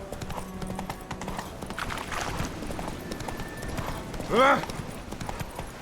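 Roach the horse gallops in The Witcher 3 with continuous rhythmic hoofbeats and a loud neigh near the end, while someone speaks and shouts briefly over it.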